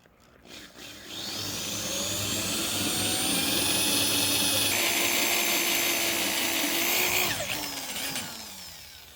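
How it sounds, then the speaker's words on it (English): A power drill with an R bit bores into a Saginaw steering box, a loud, sustained whine rising after a start-up, holding steady for several seconds, then dropping as it stops. "So now I'm stepping up to the R drill bit, and that's the final one"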